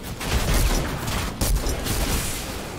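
Fortnite gunfire: loud bursts of shots, a dense volley at the start and another sharp burst midway, over a constant rumbling background.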